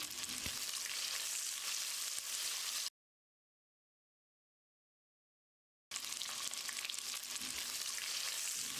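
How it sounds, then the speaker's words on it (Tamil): Sliced onions sizzle and crackle steadily as they fry in a pan, a dense, close frying hiss that cuts out briefly in the middle and then resumes. "வெங்காயத்தை பொன்னிறமாக வதக்கிடலாம்."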